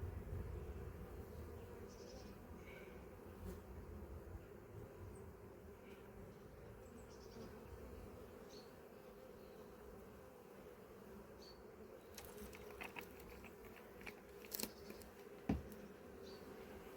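Honey bees hum around a full hive box at an apiary in August, a soft, steady drone with a few brief louder buzzes passing close near the end.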